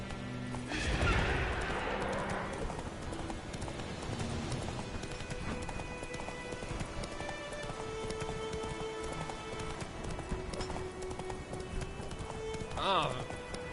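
Horse hooves clip-clop in a steady rhythm in The Witcher 3: Wild Hunt, with a loud whinny early on and another near the end.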